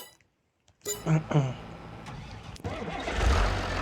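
Tractor engine in the video game Farming Simulator 23 cranking to life after a short silence, then settling into a steady mid-pitched idle that swells louder toward the end.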